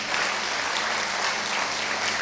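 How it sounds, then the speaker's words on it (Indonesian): A congregation at a Sunday church service applauds as a continuous, dense wash of clapping with a low steady hum underneath, evenly loud throughout and without speech. "Tepuk tangan untuk Tuhan Yesus."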